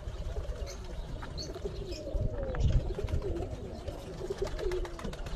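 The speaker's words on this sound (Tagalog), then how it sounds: "Marami na namang babies ang mga kalapati." Pigeons, including small young ones, coo softly in a low warbling rhythm that repeats through the clip, with faint chirps above and no voices.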